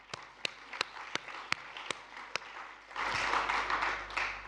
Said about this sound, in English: a round of applause for all those chairs of sessions